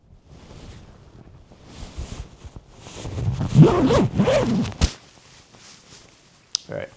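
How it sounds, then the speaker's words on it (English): A TideWe Altus hunting jacket is zipped up over the microphone, muffled rustling and rubbing of fabric building to a short zip burst, loud and close with wind-like buffeting. "I'm going to go ahead and zip this up over the microphone"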